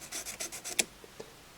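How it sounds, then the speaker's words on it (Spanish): Sandpaper rubbing across the leather strap of a Timberland outdoor watch during restoration, a quick series of rasping strokes close up, then a few faint scrapes before near-silence. "ven qué rápido actúa esta lija"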